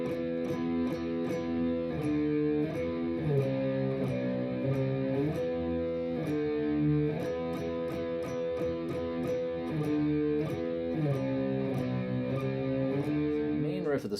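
Slow distorted electric guitar riff, sustained chords shifting steadily over a tight hi-hat-like tick, loud and continuous with no talking.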